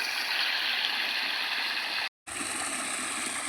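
Irrigation water flows steadily into a farm field plot, a continuous gurgling rush close by, cut off by a brief silent gap before resuming.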